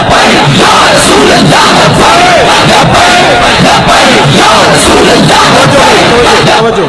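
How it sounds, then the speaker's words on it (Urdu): A huge crowd at a religious rally for Khadim Hussain Rizvi roars back chanted slogans such as "Labbaik Ya Rasool Allah" in a loud, continuous mass of voices that swells in waves. "خادم حسین رضوی حضور دے نعرے لاؤ"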